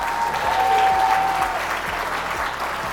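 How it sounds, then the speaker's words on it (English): A school assembly audience gives sustained, dense applause honoring a food justice champion, steady and loud throughout with a faint hum beneath. "Let's give her a big round of applause."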